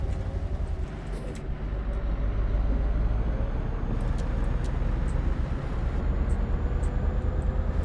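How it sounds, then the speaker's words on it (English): A new Scania truck engine in Euro Truck Simulator 2, driven with manual gears, holds a steady loud low drone as it climbs into higher revs, with no talk over it. "up to those higher revs, the truck sounds fantastic"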